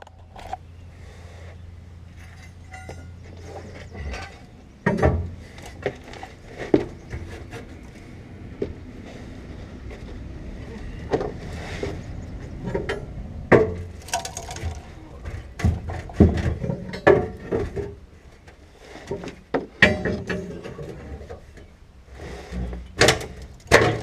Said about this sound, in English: So we can get the crowbar in there and pry some stuff loose